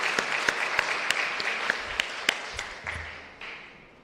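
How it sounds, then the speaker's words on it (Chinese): A church congregation gives applause during a Sunday worship service, a few sharp individual claps standing out over a steady patter that gradually fades toward the end. "我们再次用我们的掌声来给我们的白水溪教会的同工"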